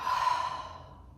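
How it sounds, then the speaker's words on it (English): A single breathy exhale through the mouth, close and soft, fading out over about a second with no talking. "One more time, inhale and exhale with sound."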